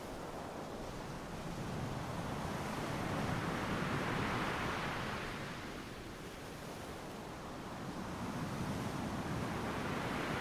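Ocean waves wash onto a shore in a steady, broadband roar that swells and recedes over about ten seconds, close and continuous with no voices present.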